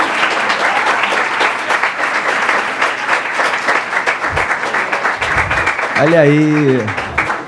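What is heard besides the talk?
audience applause at lecture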